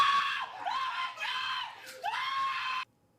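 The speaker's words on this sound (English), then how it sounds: "screaming." Loud, sustained screams from several voices ring out in long, rising bursts, broken by brief dips, then stop abruptly near the end.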